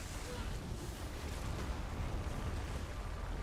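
Continuous rumbling explosions and battle noise fill a dungeon boss fight in the video game Elder Scrolls Online, a dense, loud wash of blasts with no clear gaps.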